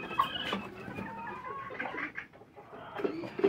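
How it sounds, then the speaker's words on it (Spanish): Rooster and laying hens, including Leghorn and Cochin-type birds, cluck and call at a poultry breeding farm, with several overlapping birds close by and steady clucking throughout with no talk. "Ese gallito es bien bravo."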